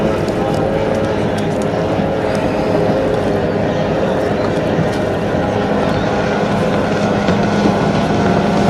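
Racing powerboat at a club event rounding turns onto the back straight, its engine a steady, loud, continuous roar across the whole stretch with no break, carried in wind-buffeted open air.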